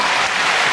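Concert audience applauding at a show, a loud, dense wash of clapping from a large crowd, brief and without gaps.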